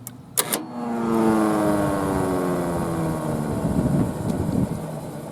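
A Whelen Thunderbolt 1000 mechanical warning siren winds up in a quick chopper run after a few sharp knocks. Its loud, rising, multi-toned wail sustains with a pulsing, rotating quality and carries on without talk.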